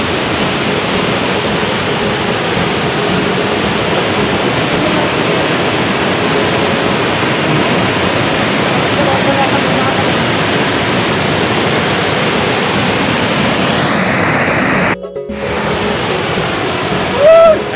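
Roar of the Aadyanpara waterfall, a loud continuous broadband rush of falling water heard up close, briefly interrupted near the end before resuming.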